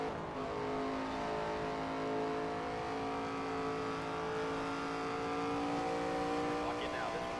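A race car engine holds a steady high drone on a qualifying lap in the NASCAR 25 video game, with a faint, even whine under quiet background sound.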